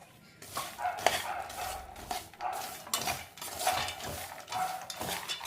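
Masala-coated peanuts mixed in a pan, heard as repeated close scraping and clattering strokes of a spoon against metal, irregular and fairly loud with no voices.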